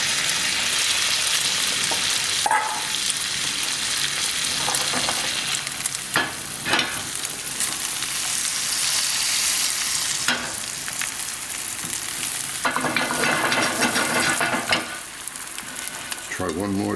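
An egg sizzles and fries in butter in a pan for a pastrami omelet, a steady loud crackle with scraping stirs and a few sharp utensil knocks, close up and without talk.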